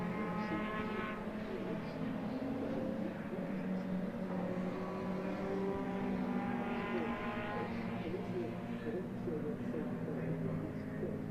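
A Vauxhall Vectra Super Touring car races at Silverstone GP. Its engine drones in a steady layered tone under continuous commentary, with other touring cars circulating in the background.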